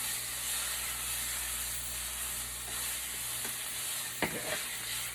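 Beef chunks sizzle steadily in a hot pan while being browned for birria tacos, a dense continuous frying hiss with a few soft utensil scrapes near the end, heard close and alone.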